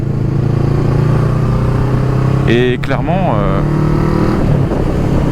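A motorcycle ridden on an open road, picked up by a helmet-mounted camera, gives a constant engine drone and wind roar, with a rider speaking briefly over it partway through.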